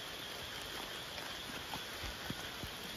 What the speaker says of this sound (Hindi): बहुत ज़्यादा बारिश होने लगी है